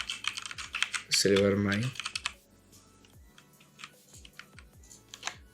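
Computer keyboard typing of a short text line during a video-editing tutorial, a quick burst of key clicks followed by sparse scattered taps, with a brief spoken word over the start.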